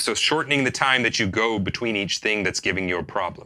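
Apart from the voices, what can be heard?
No everyday noise stands out behind the speech.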